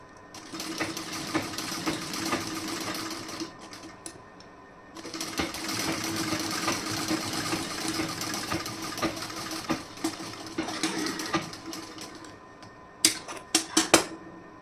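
A sewing machine double-stitches a blouse seam, running in steady rapid bursts with a short pause midway and a few sharp clicks near the end.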